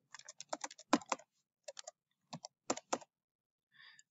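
A password is typed on a computer keyboard in quick bursts of soft, close key clicks, with short pauses between clusters and a brief fainter rustle at the end.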